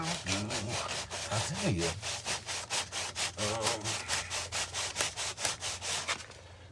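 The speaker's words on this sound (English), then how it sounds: "I'm gonna sand on that a little bit." Hand sanding Bondo body filler on a wooden brick mold, a rapid run of rhythmic rasping back-and-forth strokes, close and fairly loud, with a brief spoken remark and a bit of humming underneath.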